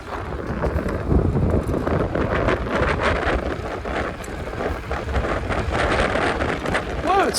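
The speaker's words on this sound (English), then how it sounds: "Whoa, it's windy." Loud, steady wind buffeting the microphone throughout while cycling fast downhill, a continuous rushing roar.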